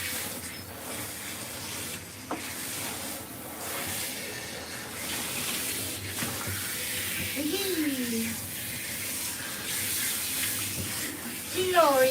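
Running water rinses a Ragdoll cat during a bath, a steady hiss of spray from a tap or sprayer close by, with faint mewing near the end.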